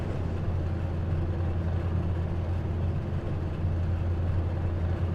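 A race car engine in the iRacing dirt-racing simulator holds a steady, dense roar with a low rumble, unbroken and fairly loud throughout, with no voices.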